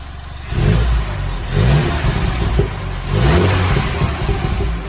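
A Mini John Cooper Works, freshly fitted with a replacement engine and warmed to temperature, revs up in several bursts, rising and falling in pitch between short pauses, loud and close with no talk.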